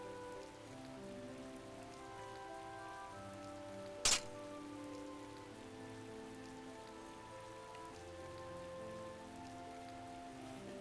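Steady rain in the game Tales of Vesperia patters continuously on surfaces, with low ambient game tones underneath and one brief sharp crack partway through.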